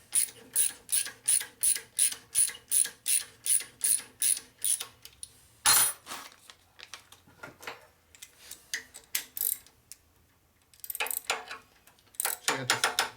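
A hand ratchet tightening long bolts on a custom rigid bobber chopper motorcycle: a steady run of loud, evenly spaced clicking strokes, a pause, then more irregular ratcheting bursts close by; no talking.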